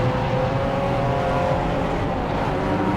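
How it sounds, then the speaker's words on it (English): Alfa Romeo Giulietta race car pulling out of the pits at a BARC 2021 circuit race, its engine droning steadily and loud throughout with a rough, constant tone. "Out of the pits comes the McMahon Alfa Romeo there"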